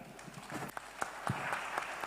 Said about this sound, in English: Does he deserve a clap?